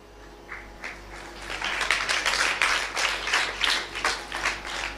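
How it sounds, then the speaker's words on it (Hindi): An audience at a Hindi spiritual discourse breaks into clapping that swells into steady applause, then thins into scattered claps, fairly close and with no speech over it. "ताली वाली मत बजाओ ना"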